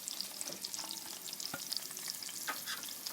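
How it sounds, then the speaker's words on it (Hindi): Onions lightly frying in a pan for aloo matar chicken, stirred with a utensil: a quiet, steady crackling sizzle scattered with tiny pops and a few soft scraping stirs, close up, with no voices. "ओनियन को हम अच्छे तरीके से थोड़ा सा लाइटली फ्राई कर"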